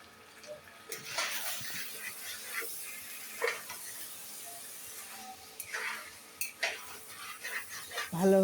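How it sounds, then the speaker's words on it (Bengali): A spoon stirs chicken feet, gizzard, liver, potato and whole garlic in a pot, making intermittent scraping and clinking strokes over a faint background sizzle, close and moderately quiet. "ভালোভাবে নাড়াচাড়া করে কষিয়ে নিব"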